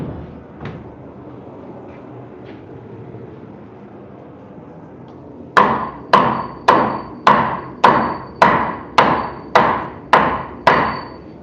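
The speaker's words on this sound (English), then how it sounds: "I need a sledgehammer." A sledgehammer pounds the wood framing of a wing wall for a wood stove, ten loud, evenly spaced heavy thuds ringing out close by after a few quieter knocks.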